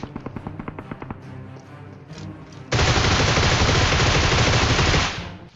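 Heavy gunfire in a shooter video game: a rapid burst of distinct shots, then a brief lull, then a dense, loud sustained barrage of automatic fire lasting a couple of seconds before cutting off.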